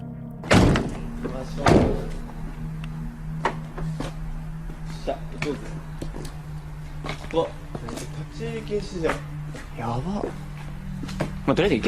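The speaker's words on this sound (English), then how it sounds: "Doors open." Doors thud open and slam inside an abandoned school, with two loud heavy knocks near the start and smaller knocks later, over a steady hum and frequent talking.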